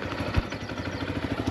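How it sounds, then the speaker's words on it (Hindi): A 2021 TVS Sport BS6 motorcycle engine runs at a steady idle nearby, its exhaust putting out a quick, even pulsing rumble. "अभी मैंने बाइक को स्टार्ट कर दिया है"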